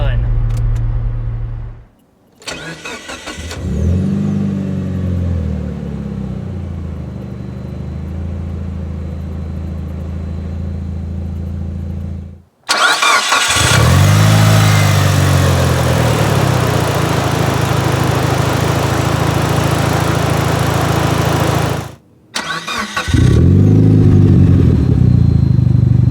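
Mitsubishi Lancer Evolution engine turning over and firing up, then running at a loud close idle with rev blips; the engine cuts out and restarts several times, with short gaps of near silence between runs.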